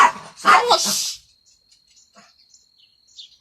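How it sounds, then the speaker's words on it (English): A dog growls and barks at a cat in a short, loud outburst near the start, followed by near silence with faint high chirps. "I gotta watch this sneaky dog. Leave it. Growling at the cat."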